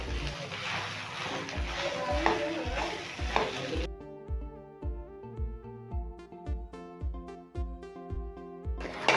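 A spoon scrapes and stirs a breakfast dish made with wheat flour in a hot pan, giving rhythmic clacks and scrapes, loud sizzling at first that drops away partway through while the steady stirring continues up close.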